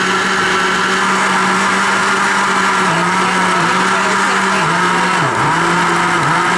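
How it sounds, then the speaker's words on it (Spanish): A kitchen blender whirs loudly and continuously, blending a cheesecake mixture, its motor pitch steady with brief dips as the load shifts, close and uninterrupted. "Ahora licuar."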